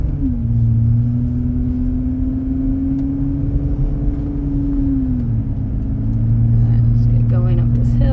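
A 2006 Honda Ridgeline pickup's engine pulls steadily on the road, a loud, constant drone whose pitch holds and then dips slightly, heard from inside the cab under a continuous low road rumble.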